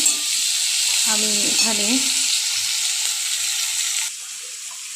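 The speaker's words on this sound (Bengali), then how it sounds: "শুকনো লঙ্কা, তেজপাতা, পেঁয়াজগুলো দিয়ে দিলাম" Onions, dry red chillies and bay leaves sizzle steadily in hot oil in a pan, a bright continuous frying hiss with a brief voice over it early on, easing slightly near the end.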